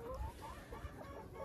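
Hens cluck faintly in a farmyard, with soft, murmuring clucks running through a short stretch of low-level background.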